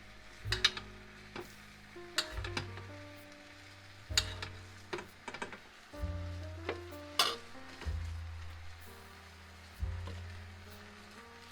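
Teriyaki chicken thighs sizzle and bubble in a pan as the thick sauce reduces over high heat, with repeated stirring scrapes and clinks of a utensil against the pan at a steady rhythm, close and moderately loud with no talking.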